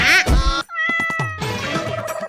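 A cat meows clearly at close range in a playful household skit about a cat stealing sweets: one drawn-out, tonal meow after a burst of louder, noisy sounds, then rustling background noise.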